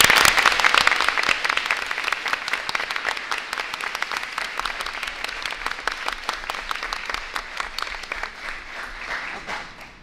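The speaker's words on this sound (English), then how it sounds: "So can we just give Washington School one more round of applause?" An audience at a public school board meeting gives a round of applause, starting loud and full, then thinning into scattered claps and fading out by the end.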